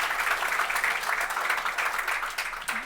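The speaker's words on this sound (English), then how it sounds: "You should clap." An ISKCON audience claps together in steady, dense applause that holds at an even level throughout.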